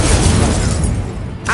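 A fire spell goes off in the game Hogwarts Legacy, a loud dense whooshing burst of flame that roars for about a second and a half.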